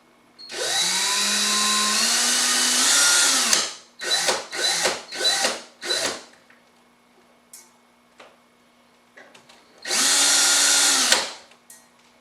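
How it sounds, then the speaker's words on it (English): A power drill runs in reverse while twisting coil wire for an alien coil build, one long steady whine, then several short stop-start bursts, a quiet pause, and a second sustained run near the end, loud and close with no talk. "take that wire, pop my drill back into reverse"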